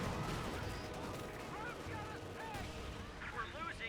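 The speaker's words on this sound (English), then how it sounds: "we do have the incendiary mortars coming in by the UKF player" Incendiary mortar barrage in the strategy game Company of Heroes 2, repeated distant booms and crackling bursts in an ongoing battle din, with chirping effects layered over it.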